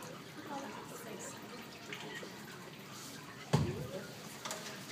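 Apple cider drips and trickles from a cider press at a fruit farm demonstration in Pennsylvania, a faint, continuous watery patter with a sharper splash near the end and light talk in the background.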